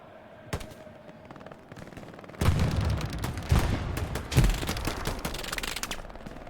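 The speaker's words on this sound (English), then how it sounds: "MG still firing" A machine gun fires in the Hell Let Loose battle game: rapid bursts of close, loud automatic fire over a rumbling backdrop of distant gunshots and explosions.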